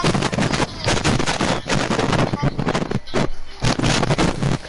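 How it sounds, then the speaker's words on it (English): Gunfire in a multiplayer video game, loud cracking shots in rapid succession over windy, noisy game audio, with a voice talking among them. "I just sniped your little friend."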